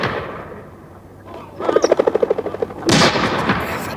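Rapid burst of gunshots on a moorland grouse hunt in a German radio crime drama, a quick string of sharp cracks followed by a louder, heavier blast, fairly close over an outdoor background.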